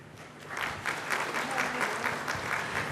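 An audience at a legal seminar claps to welcome the chief guest, a dense steady applause that swells after a half-second and holds at moderate level.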